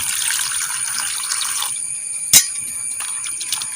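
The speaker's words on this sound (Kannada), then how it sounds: "ಇದಕ್ಕೆ ಇನ್ನು ಸ್ವಲ್ಪ ನೀರು ಹಾಕಿ" Water poured onto pieces of bitter gourd, a steady close splashing flow that stops after a couple of seconds, followed by a sharp knock and faint dripping.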